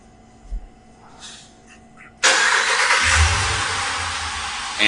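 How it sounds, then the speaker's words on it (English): A Ram 1500 with a 5.7 Hemi V8 cranks and fires, the engine catching abruptly after a quiet stretch and settling into a loud, steady idle close by. "we're going to start the engine up"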